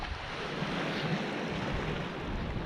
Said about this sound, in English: wind is getting worse and worse as time's going on here